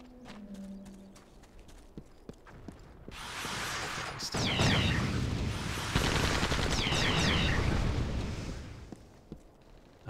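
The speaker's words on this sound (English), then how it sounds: "I heard gunfire very briefly." Rapid bursts of gunfire in the video game Resistance: Fall of Man crackle in two sustained volleys, with scattered sharp clicks and thuds before and after.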